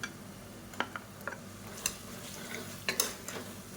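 Tomatoes sautéing in oil in a pan for biryani, a faint low sizzle broken by a few sharp clicks of a spoon stirring against the pan.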